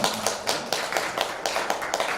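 Scattered applause from a lecture audience at a forum: a modest group clapping in a quick, uneven patter for about two seconds, with no talking.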